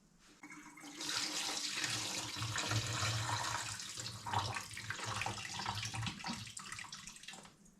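Tap water runs steadily into a bowl of rice being rinsed for steaming in a kitchen, a soft continuous splashing rush lasting several seconds before it fades, with no voices.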